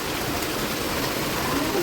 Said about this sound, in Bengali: বাইরে কন্টিনিউ বৃষ্টি হয়ে যাচ্ছে